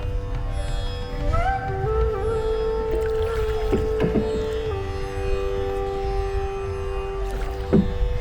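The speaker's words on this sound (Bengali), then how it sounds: "চলন বিলে নৌকা করে ইঞ্জিন চালিত নৌকা করে ঘুরতে অনেক মজা" An engine-powered boat travels across the Chalan Beel wetland in Natore. Its engine gives a steady droning hum with shifting tonal whines over water and wind noise throughout, and no one speaks.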